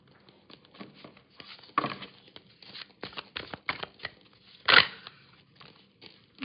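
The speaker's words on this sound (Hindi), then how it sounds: "Okay, I'll shuffle one more time." Tarot cards are shuffled by hand in quick irregular bursts of papery riffles and soft slaps, close up and fairly quiet, with one sharper flurry near the end.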